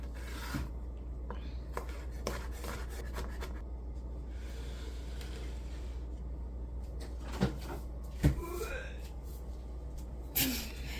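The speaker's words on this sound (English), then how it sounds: "Do you like my little sound effect from lifting the bowl of stock?" A bowl of stock lifted off a hard surface with a brief scrape and knock; faint rubbing and rasping sounds come and go against a low steady hum.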